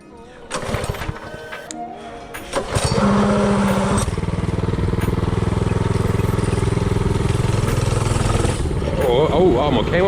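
Mini-bike powered by a Predator 224cc engine revs up and rides along a dirt trail, a loud, close, steady engine drone following a few bumps and clatters at the start, with a voice briefly heard.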